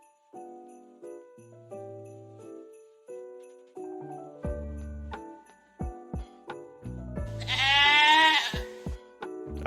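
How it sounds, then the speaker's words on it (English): Goats bleat repeatedly in short wavering calls heard on a live stream, layered over a sparse melodic tune, with one long loud quavering bleat near the end. "All streams is just this woman milking 12 goats twice a day and feeding them."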